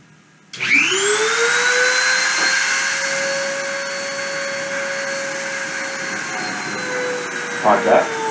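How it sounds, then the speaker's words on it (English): A deposition machine's spindle spinning up with a rising whine that settles into a steady, loud tonal hum, with a small clunk near the end. "I'm going to turn the spindle on and start the deposition"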